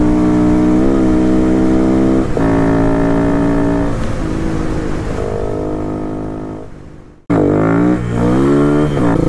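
A 2011 AJP PR4 200 supermoto motorcycle on a ride, its engine droning loud and close while revving through gears, pitch climbing and dropping, then briefly cutting out before roaring back up.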